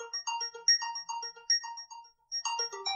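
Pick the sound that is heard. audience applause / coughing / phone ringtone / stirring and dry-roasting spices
phone ringtone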